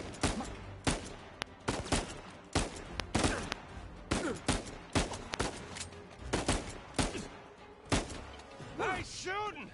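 Gunfire in Uncharted 4 pops in an irregular string of loud, close single shots and short volleys with thuds between them, and a voice speaks near the end.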